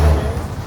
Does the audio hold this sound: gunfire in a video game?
no